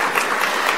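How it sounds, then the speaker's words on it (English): Audience applause at a WA education awards presentation event, a brief burst of steady crowd clapping, moderately loud and unbroken with no talk. "Give yourselves a round of applause."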